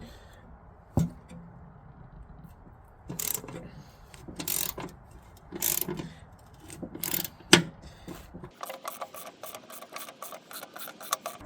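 A 13mm wrench loosens a lawn mower deck spindle nut by hand: several sharp metallic clanks and scrapes at uneven intervals, then a rapid run of ratcheting clicks near the end, close and moderately loud.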